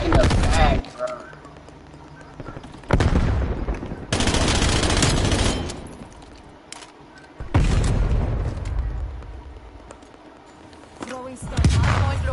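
Loud bursts of automatic gunfire and explosive booms in Call of Duty Black Ops Cold War online multiplayer on a Hardpoint match, coming in long dense volleys with short gaps between them.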